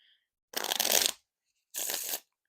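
A deck of Theory11 MailChimp Summer Edition playing cards is shuffled in two quick riffle bursts, each a dense papery flutter lasting about half a second, close and crisp against near silence.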